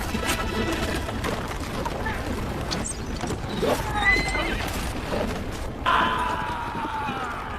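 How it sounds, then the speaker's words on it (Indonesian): Horse neighing and galloping in a battle scene with falling rocks: a dense, loud mix of hoofbeats and commotion, with a sharp whinny rising out of it near the end. "Ratu saat itu berhasil memanah kuda yang ditunggangi oleh Galro"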